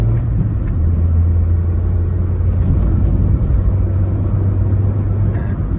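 Toyota Yaris 1.2 with a swapped 1NZ engine and manual gearbox drives along, a steady loud low engine drone and road rumble holding an even note throughout.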